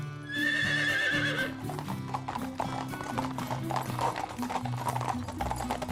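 Cartoon horse hooves clop rhythmically along over a musical backing, with a horse's whinny near the start; the pounding stays steady and close.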